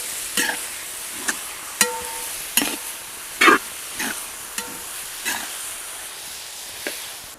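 Shallots and halved green chillies frying in oil in a pan for a quail egg roast, with irregular clanks and scrapes of stirring over a continuous hissing sizzle.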